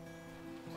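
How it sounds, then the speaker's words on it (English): Dog barking in The Flame in the Flood video game, a faint yip rising at the end of a quiet stretch over a steady low background hum. "This dog is very barky."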